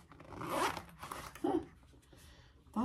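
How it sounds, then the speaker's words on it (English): A zipper pulled open on a handmade sewn fabric wristlet, several quick raspy zips in short bursts close to the mic, with a final brief zip at the end. "open your zipper"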